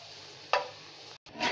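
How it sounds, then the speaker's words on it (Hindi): Onions for a dal tadka sizzle in a hot pan with a steady frying hiss, and a stirring scrape and a brief burst of louder sizzling break through it. The hiss stops for a moment and then returns stronger. "हमारी प्याज ब्राउन हो रही है, लाइट ब्राउन, अभी थोड़ी बाकी है।"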